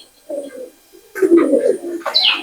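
A Pakistani pigeon, a female, coos in soft low bursts near the microphone, with a brief pause and then a louder stretch that ends in a bright chirp-like note.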